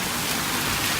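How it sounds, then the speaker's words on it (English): Heavy rain pours steadily outside a shopping mall, a dense, even hiss with no breaks and no voices. "The rain just come down out of nowhere."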